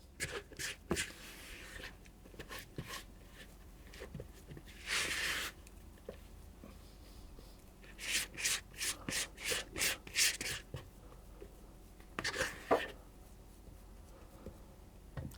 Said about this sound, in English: I'm just going to use a spatula